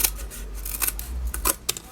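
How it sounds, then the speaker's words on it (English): Scissors snipping through paper to cut out a circle, several crisp, close cuts in an uneven rhythm with no talk. "I'm going to take my scissors and I'm going to cut my circle"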